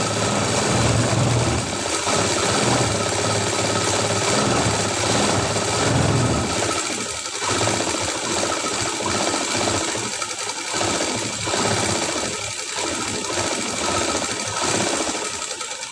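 A sewing machine runs steadily and loudly close by, stitching along the edges of a high neck blouse in one continuous whirring stretch with slight rhythmic variation.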